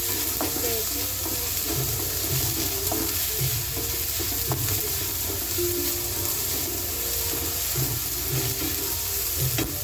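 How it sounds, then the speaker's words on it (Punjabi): A vegetable tempering in a little olive oil for a beans dish: a continuous close sizzle and crackle, with intermittent stirring and clinks of a utensil against the pan. "ਪਹਿਲਾਂ ਸਬਜ਼ੀ ਨੂੰ ਤੜਕਾ ਲਾ ਲਾਂ"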